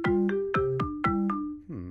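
Short melodic percussion pattern played back in a music education app, about seven sharp plucked or mallet-like tonal hits in a quick ta ta ti ti ta rhythm, each with a falling pitch and bright attack, ending in a sustained buzzy tone.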